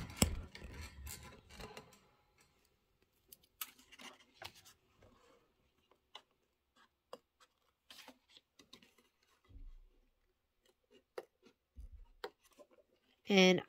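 Scissors trim fabric for a Kimberbell Spring Showers birdhouse sewing project, giving quiet snips and rasping cuts in scattered bursts with small clicks, and a voice speaks at times.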